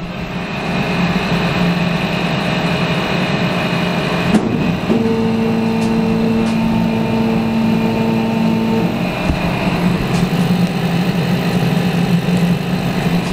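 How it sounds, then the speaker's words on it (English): A 100W laser engraver drives its table down, a steady motor whine over a constant machine hum, with several faint clicks and a brief tonal drone in the middle. "Okay, now I'm going to drive the table down a little bit."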